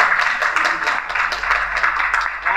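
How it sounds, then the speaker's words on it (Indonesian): An audience at a dakwah training session claps for the youngest participant, a dense steady patter of many hands at moderate distance, continuous and even throughout. "Tepuk tangan dong."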